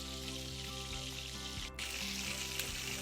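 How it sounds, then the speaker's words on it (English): Deer and pork breakfast sausages fry in a cast-iron pan, giving a steady, dense close sizzle with a brief dip partway through before the crackle resumes at full strength. "They're frying up really nice."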